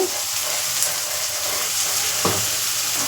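Spiced curry with egg and dried brinjal fries in a pan, a steady close sizzle with a couple of sharp scraping stirs from a spoon against the pan.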